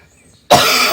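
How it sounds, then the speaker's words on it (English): A single sharp, loud cough from a person with a lingering post-flu cough bursts out after a moment of near silence, close to the microphone. "I have a persistent cough."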